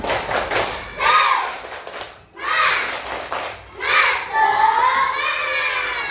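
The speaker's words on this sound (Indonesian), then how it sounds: "Ayo tepuk semangat dulu. Tepuk semangat." Third-grade elementary class performs a rhythmic clapping chant together, children's voices chanting in short bursts between patterned claps, with brief pauses between rounds.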